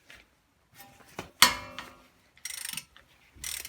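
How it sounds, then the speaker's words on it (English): A 19 mm socket wrench works on a twelve-year-old Honda front brake caliper bracket bolt, giving sharp metallic ratchet clicks and a single loud clank, then two short bursts of rapid ratcheting, close up with no talk. "With the 19 millimeter socket, we are going to remove the caliper bracket."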